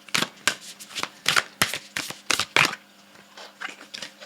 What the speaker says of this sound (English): So I'm going to shuffle each one, and we're going to pick one card from each.